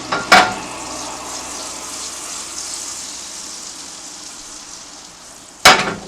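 Steady sizzling of salmon frying in butter in a pan over medium heat, a continuous crackle with two sharp clanks of a utensil at the start and end.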